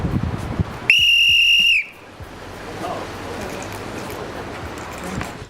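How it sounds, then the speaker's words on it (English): A single sharp, shrill whistle blast sounds for about a second, then gives way to a quiet outdoor background hiss. "I had a little whistle that helped me do that"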